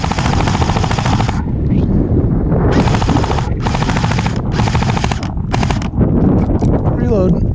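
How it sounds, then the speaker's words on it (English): Outdoor gunfire in rapid automatic-sounding bursts, loud and close, broken by short pauses, with wind buffeting the microphone and voices under the shooting. "They're shooting right here."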